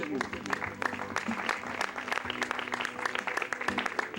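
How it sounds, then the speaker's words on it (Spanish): Applause from a church congregation fills the space, steady clapping continuing throughout with a voice audible beneath it. "Denle un aplauso fuerte a Dios"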